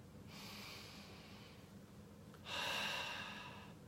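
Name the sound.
deep breathing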